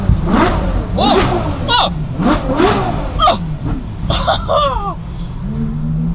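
The V12 engine of a Ferrari revs loudly and close by in several rising and falling pulls as it accelerates, and someone exclaims over the engine noise.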